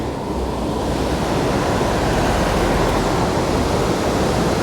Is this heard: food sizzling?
no